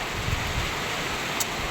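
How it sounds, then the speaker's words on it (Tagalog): Strong wind from a low-pressure storm roars and buffets continuously, a dense broadband rush with low rumbling gusts against the microphone. "ang lakas ng hangin"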